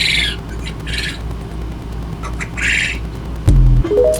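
Small quails give sharp, squawky crowing calls, three or four short bursts spaced about a second apart, loud and close, followed at the end by a sudden low thump and rising tone.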